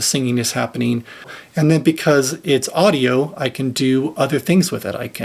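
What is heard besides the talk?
No distinct noise like a dog, phone or traffic.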